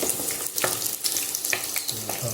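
Onions fry in a pot, browning and sizzling softly with faint crackles and a stir or two, close and steady.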